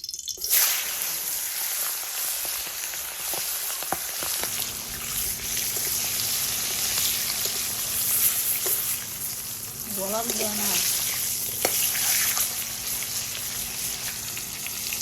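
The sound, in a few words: whole rooster frying in oil in a wok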